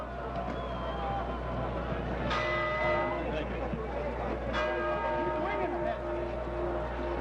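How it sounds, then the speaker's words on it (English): A boxing round bell sounds twice before round 8 of the Emile Griffith vs. Nino Benvenuti world middleweight title fight, each strike leaving a bright metallic hum that fades, under constant background noise and a voice. "The bell for round"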